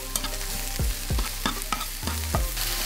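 Chicken with onions, garlic and leek stirred in a hot pan: loud, close sizzling with repeated scraping strokes of a spatula against the pan in an uneven rhythm, no voices.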